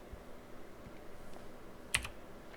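Keys pressed on a computer keyboard for the Shift+W shortcut in Photoshop: one quick, faint keystroke, with maybe a second click right behind it, in a quiet room.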